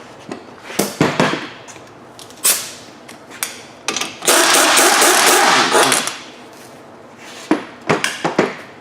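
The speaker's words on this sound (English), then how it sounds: "Take this lug nut off that I put on." A lug nut comes off a Dodge Dakota wheel with sharp, close metallic clanks and ratchety bursts, including one sustained rattling spin of about two seconds, with quiet gaps between.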